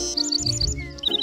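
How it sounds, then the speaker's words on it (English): A bird sings a series of bright, high chirping notes in quick repeated phrases, close and clear over a soft background tone, with a short pause before a final run of rapid chirps. "That's a bird singing."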